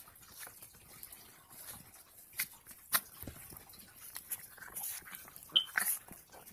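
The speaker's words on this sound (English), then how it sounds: "How to stop a dog fight." Dogs scuffle in a rough play-fight, with short whimpers, growls and yelps bursting out irregularly over faint background noise, fairly close and moderately loud.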